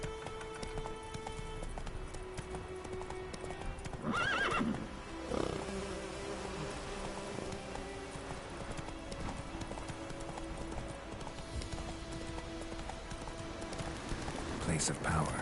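Roach, a horse in a video game, gallops with a steady clip-clop of hooves and gives occasional whinnies over background game sounds and a faint insect buzz, with speech present.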